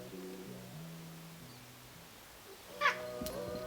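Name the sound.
pet cat meowing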